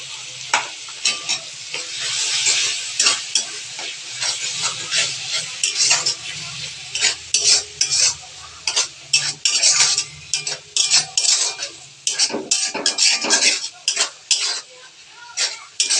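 Spices cooking down with tomato paste in a pan for homemade chicken kurma, a spatula repeatedly scraping and stirring against the metal over a steady sizzle, close and fairly loud with no talking.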